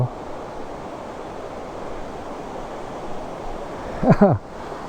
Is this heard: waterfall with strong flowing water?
yes